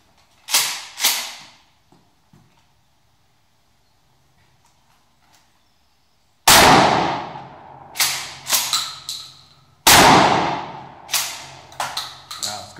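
Mossberg Shockwave shotgun fired with Hornady American Gunner reduced-recoil 00 buckshot, ten pellets: two loud close blasts several seconds apart, each trailed by sharp echoing reports, after a quieter stretch of small handling sounds.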